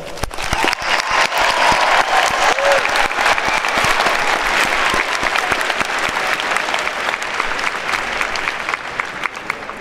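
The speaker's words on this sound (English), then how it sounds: "Would you please join me in a round of applause?" A large audience at a graduation diploma and awards ceremony claps steadily and loudly for about ten seconds, a dense, even wash of applause with no break.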